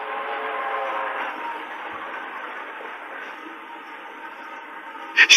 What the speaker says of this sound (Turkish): Sekiz on dört treni geliyor.